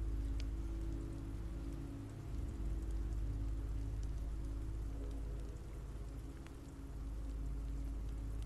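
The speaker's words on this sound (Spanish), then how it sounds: "Está lloviendo" Rain falls steadily in The Walking Dead Season 2 video game, a soft, continuous patter on surfaces with a low ambient hum beneath, faint and unbroken throughout.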